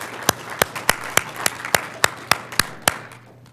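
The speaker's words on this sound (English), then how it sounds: "how about a round of applause for these silent partners here?" An audience at a business insurance group's annual meeting applauds its consultants with sparse, evenly spaced claps at roughly three per second, moderately distant and fairly quiet.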